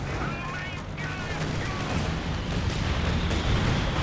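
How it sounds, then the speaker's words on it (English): A Company of Heroes 2 bombing run pounds the battlefield with a dense, continuous barrage of rumbling explosions and crackling blasts that stay loud and steady throughout. "I have a frag, a bombing run coming down here"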